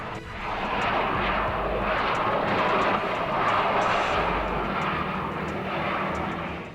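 A Beechcraft King Air C-90 twin turboprop circles overhead with its nose gear unable to lock down, a steady droning engine roar swelling and easing slightly as it passes, alone and at moderate distance.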